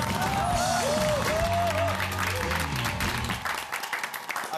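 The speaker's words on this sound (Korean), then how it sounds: "박수 나왔습니다." A studio audience at a televised singing competition fills the room with loud, sustained applause and cheering. A sung or spoken voice glides through the middle, and the clapping fades toward the end.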